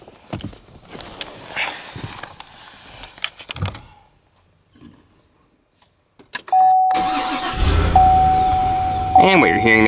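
A 2016–2017 Cadillac Escalade ESV Luxury's 6.2-liter V8 cranks and fires, then settles into a loud, steady, deep idle close by. People talk and faint clicks and footsteps come before the start.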